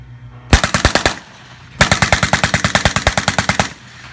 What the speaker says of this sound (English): Now I'll demonstrate for you the German MP40.